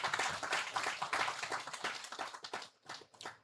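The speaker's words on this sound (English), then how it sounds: "let's clap for all our elderly with us" A gathering celebrating the 30th anniversary of an anaesthesiologists' society claps together. Brisk, dense applause swells near the start and then breaks into a few last scattered claps before fading out.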